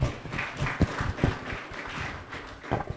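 An audience applauds Father Doos Devaraju at a hospital physiotherapy unit inauguration, a brief, modest patter of hand claps at moderate distance with a few sharper thumps.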